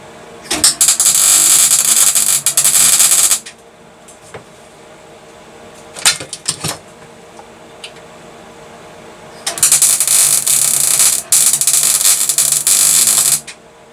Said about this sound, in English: So I'll try and get a weld on the back of it.